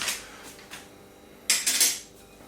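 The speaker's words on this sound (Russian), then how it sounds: "Все это дело хорошо перемешиваем." A spoon scrapes and clatters around a bowl of cottage cheese batter in a few quick bursts, with a louder stretch of stirring near the end.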